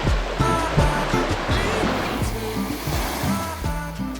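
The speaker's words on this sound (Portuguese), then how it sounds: "Chegamos na primeira praia." Ocean surf breaking on a beach in Ubatuba reachable only by trail, a continuous roar of waves close by with rhythmic low surges.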